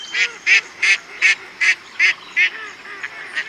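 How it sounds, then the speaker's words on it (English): Recorded mallard duck call played from a HuntBox device, a series of about eight evenly spaced nasal quacks, clear and prominent, fading slightly toward the end. "So right here, I can actually play the call of the mallard."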